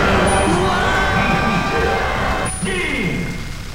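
A loud, dense crowd cheer roars steadily in Super Smash Bros. Melee, mixed with in-game sounds and a voice.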